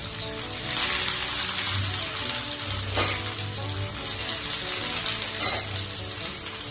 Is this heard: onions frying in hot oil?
yes